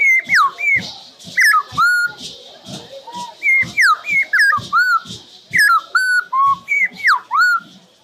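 A person whistles an imitation of a sabiá thrush call, a series of bright, sliding whistled phrases repeated in quick bursts with brief pauses, close and loud, with no talking.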